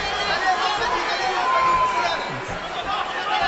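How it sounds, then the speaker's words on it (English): Brazilian fans cheer in the arena crowd at a UFC fight between Gleison Tibau and Khabib Nurmagomedov, a loud rolling mass of shouting and chatter, with commentators talking over it. "it's hard to hear when you've got a mob cheering"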